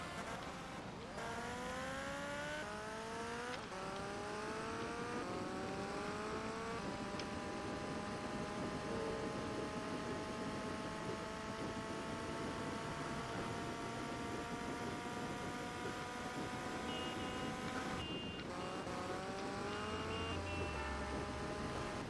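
A vehicle engine in a Police Stories mod for GTA Vice City drones steadily at close range, its pitch climbing and dropping through repeated gear shifts as it accelerates and cruises.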